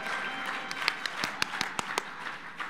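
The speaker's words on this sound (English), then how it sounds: "I got San Diego to clap for Los Angeles." A conference audience applauds in a large hall, a dense wash of clapping with several sharp individual claps standing out, moderately loud and steady throughout.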